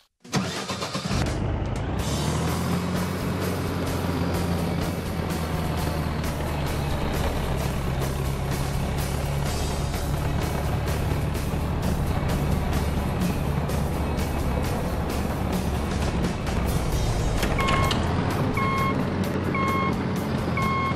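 A tractor engine in Farming Simulator 2014 starts up and runs at a loud, steady idle. Near the end, a regular reversing beep comes in over the engine.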